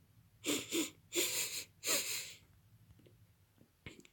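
A voice gives several quick, breathy sniffs in a row, close up, then a short pause and one more faint sniff.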